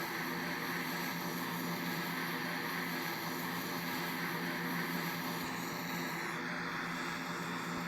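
Propeller airplane in the PTFS video game throttling to full power for takeoff, a steady loud engine drone with a rising tonal whine near the end.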